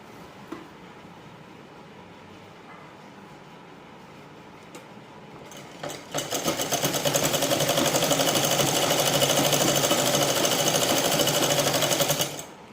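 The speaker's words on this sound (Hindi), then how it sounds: "अब मैं एकदम सीधी सिलाई लगा दूँगी ऐसे करके।" An electric sewing machine running a straight seam on a cancan petticoat: quiet handling at first, then the motor starts near six seconds and whirs loudly with a rapid, steady needle clatter until it stops at the end.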